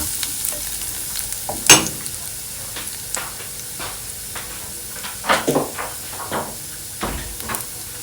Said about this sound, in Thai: เกี่ยวกระเทียมให้หอมก่อนนะ